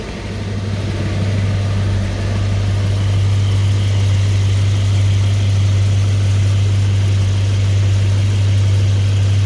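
A Mercedes E63s with 60,000 km idles while warming up, a loud, steady low engine drone with a constant hum and no revving, close by and alone.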